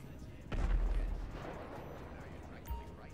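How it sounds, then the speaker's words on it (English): A single deep, booming explosion in Grand Theft Auto V with a rumbling low tail that fades, followed by a smaller thump later, set against quiet background noise. "What was that explosion?"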